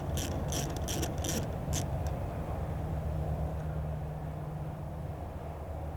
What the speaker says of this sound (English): we will detach the upper vent hose by loosening the clamp using an 8mm socket